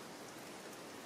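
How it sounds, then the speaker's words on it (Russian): Rain coming down outside a beauty salon, a brief, constant wash of pattering drops at an even level, with no talk over it. "на улице дождик."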